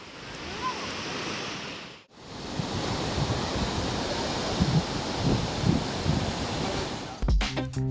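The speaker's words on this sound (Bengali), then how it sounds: "ভাই, সমুদ্রের গর্জনটা শুধু শোনো একবার।" Sea waves roar onto the beach at Digha Tajpur, a loud, dense, continuous surf wash with wind buffeting the microphone, briefly dipping once before surging back, ending with a few clicks.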